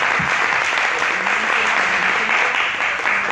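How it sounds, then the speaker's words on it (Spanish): Audience at a literature and women event at the Las Palmas de Gran Canaria book fair applauds, a dense, even roar of clapping that stays loud and constant throughout. "Pues por favor, un aplauso para todo el mundo"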